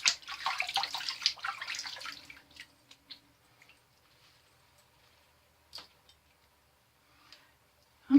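Water from a tap splashes into a sink during a rinse after shaving, heavier for about two seconds and then dwindling to scattered quiet drips and small knocks.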